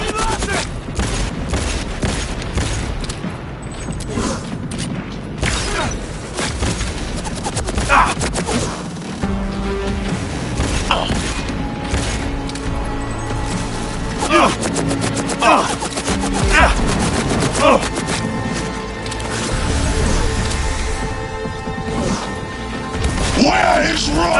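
Dense rapid gunfire and explosive bursts from a firefight in Cyberpunk 2077, loud and continuous for over twenty seconds, with voices shouting over the shooting.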